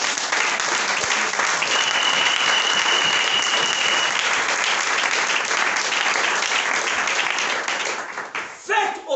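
A church congregation applauds to acclaim the Lord, with dense, sustained clapping from many hands filling the room for several seconds and a steady tone ringing over it before the applause thins out at the end.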